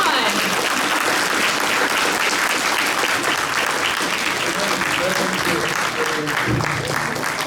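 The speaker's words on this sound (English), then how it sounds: "One more round of applause for our panelists." An audience at a writers' panel discussion gives the panelists a dense, sustained round of applause, with many hands clapping steadily and evenly for the whole stretch.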